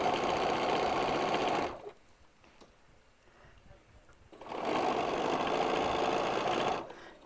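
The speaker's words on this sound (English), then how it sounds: "And then I'm going to start stitching." A sewing machine stitches down quilt binding in two steady, loud runs separated by a quiet pause of a few seconds, with no talking.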